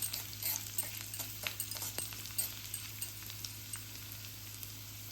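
Tempering sizzling in hot oil for a South Indian curd rice dish, a steady broad hiss with soft crackles and small pops spread through, fairly faint and close, with no voices.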